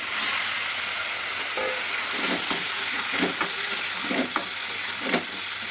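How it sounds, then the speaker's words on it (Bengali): Small puti fish frying in hot oil for a sour fish curry, stirred with steady scraping strokes over a continuous close sizzle, with no voices. "পুঁটি মাছগুলো দিয়ে আবার একটু নাড়াচাড়া করতে হবে"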